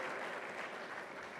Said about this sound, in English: I think we should clap for sir also and for all the staff who has always been with us